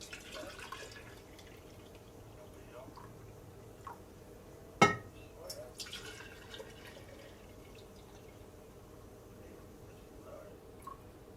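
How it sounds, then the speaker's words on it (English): Skim milk is poured into wide-mouth glass jars for homemade yogurt, a faint, quiet liquid trickle with soft splashes, interrupted midway by one brief sharp clink of glass. "So our next step is to just take milk and fill these jars."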